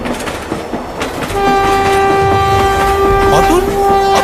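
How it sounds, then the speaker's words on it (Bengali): A train approaches on a railway line, its rumble and wheel clatter growing until a loud, sustained horn blares over the approach. "ততক্ষণে ট্রেন আমাদের একদম কাছে চলে এসেছে।"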